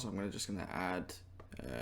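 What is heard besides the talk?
No distinct noise like a dog, phone or traffic.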